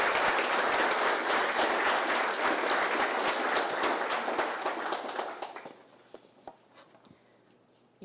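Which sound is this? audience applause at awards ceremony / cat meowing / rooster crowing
audience applause at awards ceremony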